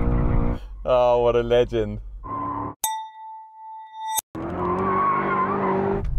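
A BMW M car doing wheelspin in four-wheel-drive mode to warm its tyres: talk and a short electronic beep come first, then a loud, close burst of engine roar and tyre noise runs on for a couple of seconds.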